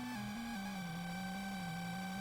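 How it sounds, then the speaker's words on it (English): An 8-bit poison effect from the NES game Final Fantasy: a steady, buzzy chiptune tone that wavers slightly in pitch and plays alone at moderate level for about two seconds. "You like that noise? That's a noise of poison."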